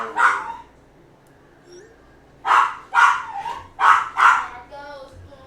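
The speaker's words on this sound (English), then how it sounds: "Cue the dog." A dog barks close by, one sharp bark followed after a pause by a quick run of four loud barks, with faint whimpering between them.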